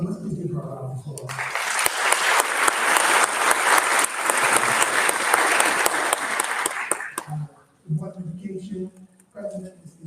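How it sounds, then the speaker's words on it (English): Dense, loud applause from an audience at a middle school graduation swells for several seconds and then cuts off, with a speaker talking before and after the clapping. "let's please give her a round of applause"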